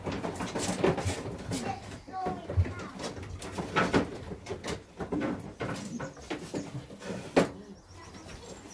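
Pigeons, including a blue pied bird, coo softly in a loft, mixed with rustling and handling noise and a few faint voices.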